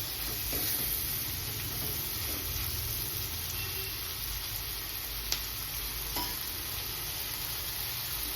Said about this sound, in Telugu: చూస్తారు కదా ఏ విధంగా ఉందో చికెన్ ఫ్రై.